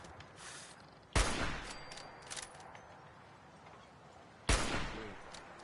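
Fallout 4 gunshots: two sharp, loud single shots a few seconds apart, each ringing out over a quiet ambient background, no voices.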